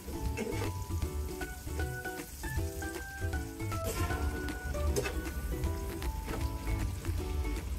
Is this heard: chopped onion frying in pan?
yes